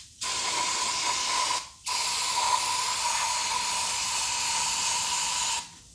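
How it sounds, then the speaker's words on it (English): Brake cleaner sprays from an aerosol can onto greasy trailer parts in two long, steady, loud hissing bursts with a brief pause between them. "you spray it down with the brake clean, and the brake clean will remove the remaining grease"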